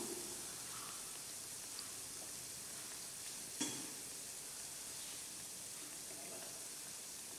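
Madhuban dosa cooking in a hot pan gives a faint, steady hiss throughout, with a single brief tap near the middle.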